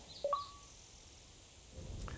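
A telephone is dialed in Jurassic Park The Game, with a couple of quick tonal beeps near the start, then a quiet stretch and a faint blip near the end.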